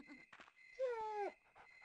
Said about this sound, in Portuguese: A gente tá escutando o latido do cachorro